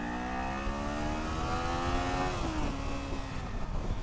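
A Kawasaki Z400 motorcycle on its stock exhaust revs up, a rising engine note that climbs steadily, then dips and settles, heard fairly close over a rough rumble of wind and road noise with no voices.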